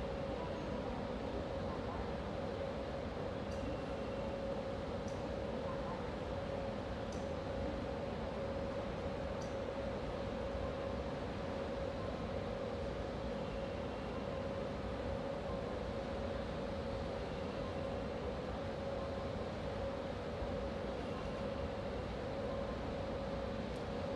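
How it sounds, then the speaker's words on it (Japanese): A Yakumo limited express train in JNR livery hums steadily at a platform in Kurashiki Station, a low mechanical drone with a faint whine held throughout. "5番乗り場に到着の列車は特急やくも8号岡山行きです。"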